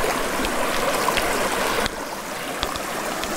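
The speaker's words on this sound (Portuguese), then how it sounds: "encontramos esse riachozinho aqui cheio" A small stream swollen after heavy rain flows in a steady, close rush of water, with faint clicks and bumps over the continuous babble.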